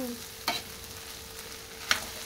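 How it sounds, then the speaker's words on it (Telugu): Onions frying in a pan for a Telangana-style chamagadda pulusu, a soft steady sizzle broken by two sharp spatula scrapes, with a faint hum underneath and no talking. "ఆనియన్ బాగా ఫ్రై అయ్యేంత వరకు"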